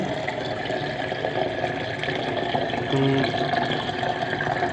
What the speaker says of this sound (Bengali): এই যে দেখেন এখন পানি লোড করতেছি